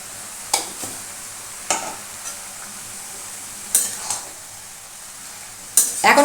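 Mixed vegetables with yogurt and Kashmiri chili powder stirred in a frying pan: a few spaced spatula scrapes over a constant low sizzle, the last one loudest.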